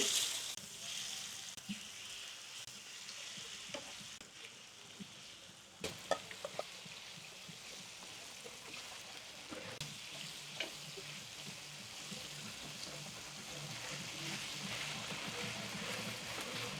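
Chicken slices frying with vegetables in a pan, a continuous close crackle and sizzle with occasional stirring clinks and scrapes, fairly quiet overall and without talk.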